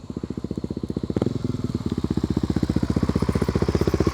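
A Suzuki DR-Z400 supermoto motorcycle engine runs close and loud, with a fast, even train of firing pulses that hold steady and then build slightly toward the end.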